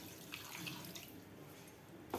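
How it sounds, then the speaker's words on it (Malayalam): Water from a glass is poured into a pan of cauliflower sabzi being cooked with salt and curry leaves, a soft continuous splashing trickle heard close and faint, briefly louder at the very end. "1 ഗ്ലാസ് വെള്ളം ഒഴിച്ച്"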